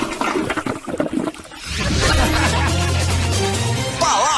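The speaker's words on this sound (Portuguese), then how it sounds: "Puxa, descarga." A toilet flush roars up after a moment of laughter and chuckling, the rushing water loud and close, swirling and draining for several seconds before gurgling away.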